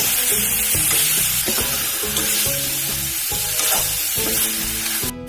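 Raw jackfruit fries with spices and tomato in a pan, giving a steady loud sizzle throughout while a utensil stirs and scrapes the pan in a repeating rhythm, with no talking.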